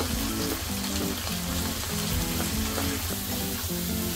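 Homemade spice paste with turmeric, chili powder and hing fries in hot oil for an eggplant and potato curry, a steady close sizzle with soft rhythmic stirring scrapes throughout.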